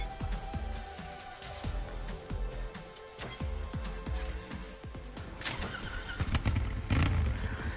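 Roach bike engine in Trials Fusion, a loud, continuous motorcycle drone with rhythmic revving pulses and a steady hum, close up and without speech.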